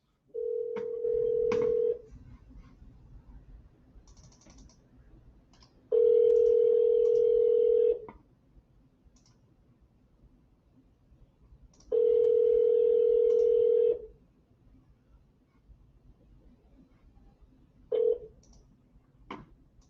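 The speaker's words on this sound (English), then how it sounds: "Let's see if they answer the phone." An outgoing phone call rings unanswered, with three long steady electronic ring tones spaced evenly apart and a short fourth tone cut off near the end, clicks and faint line noise in the gaps.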